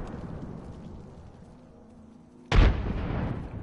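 A frag grenade goes off in the Apex Legends video game as a single sudden, loud explosion that cuts through a quieter stretch and then trails into a lingering rumble.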